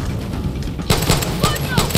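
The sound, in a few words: flaming pistol gunfire in video game Far Cry 6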